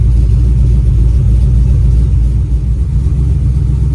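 A 1936 Chevy Coupe engine idles steadily while warming up, a loud, close, continuous low rumble with no breaks or talk over it.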